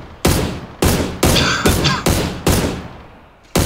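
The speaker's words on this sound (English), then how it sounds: "I'm just laying shots in the smoke there" In the PUBG battle-royale video game, a player fires six loud, punchy gunshots spaced roughly half a second apart, with a seventh shot starting at the end, each one ringing out alone with no talk over it.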